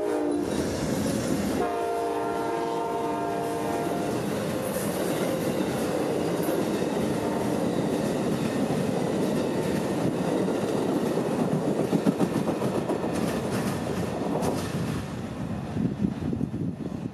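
Amtrak-style passenger train 92 speeding north out of Tampa in central Florida, horn sounding in sustained blasts early on, then a loud steady roar of wheels and cars passing close by with clatter.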